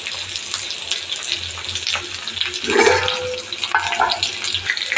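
Onions sizzle and hiss in hot oil for a masala kuzhambu, a steady frying crackle with a brief louder burst midway, close and fairly loud.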